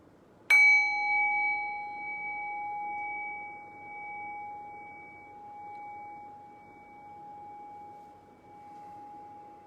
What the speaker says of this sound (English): I'll ring the bell.